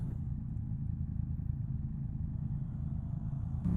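An MT motorcycle engine while riding produces a steady, low, throbbing rumble with a faint clatter, continuous throughout and recorded from on the bike.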